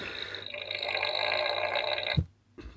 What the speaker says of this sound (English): It lets rip with a fart.